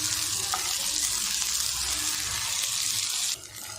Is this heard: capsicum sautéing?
yes